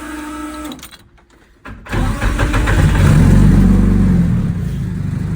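A 700hp drift car that had sat unused for three years cranks briefly, falls quiet, then fires up and settles into a loud, steady rumbling idle with some revving, close by and without any talk over it.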